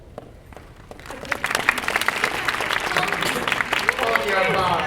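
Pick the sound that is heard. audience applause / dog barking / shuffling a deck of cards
audience applause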